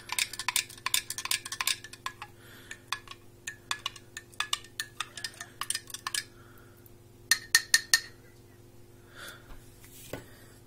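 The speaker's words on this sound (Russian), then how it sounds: "Будем тщательно перемешивать." A spoon stirs citric acid into warm water in a glass, making rapid, repeated clinking against the glass. The clinks come in quick bursts with short pauses over a quiet background hum.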